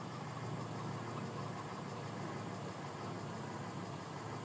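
A tractor engine in the video game Farming Simulator 2013 runs as a steady, even mechanical drone with no change in pitch, carrying on without a break and without talk.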